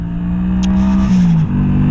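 A Honda Shadow 125 motorcycle engine hums loud and close in a steady drone whose pitch rises slightly and then drops back, with a brief higher whine partway through and no talking.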